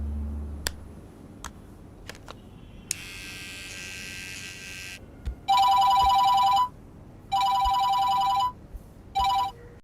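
A telephone rings for an incoming call in three loud, buzzing electronic bursts, the last cut short, after some earlier clicks and rustling in a quiet room.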